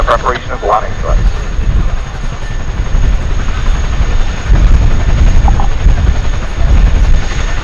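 A Chinook helicopter at the RAF Cosford Air Show 2024 produces a loud, continuous rotor roar with pulsing blade slap that fills the whole stretch at close range, with faint voices early on.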